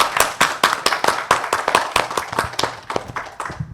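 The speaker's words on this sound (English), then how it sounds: "I want to give them a round of applause" Clapping from an audience at a talk on young entrepreneurs, with loud, distinct rhythmic claps at a steady, fairly quick pace from a few nearby hands before it tapers off at the end.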